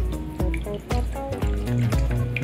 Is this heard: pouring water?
yes